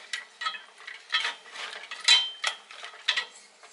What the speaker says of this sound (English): you're going to whisk this all together